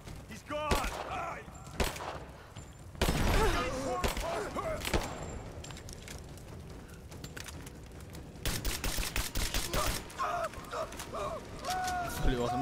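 Automatic gunfire from the action game Rise of the Tomb Raider: rapid bursts of shots come in clusters over about twelve seconds, mixed with mechanical clatter, and shouting voices are heard between and over the shooting.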